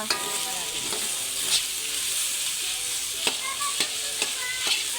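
Garlic sizzles and crackles in hot oil in a pan for menudo, a loud, steady frying hiss with a few sharp stirring pops near the end.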